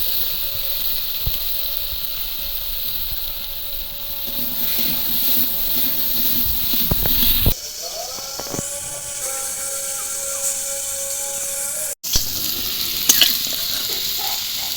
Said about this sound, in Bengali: তেলের মধ্যে আমি আলুগুলো ভেজে নেব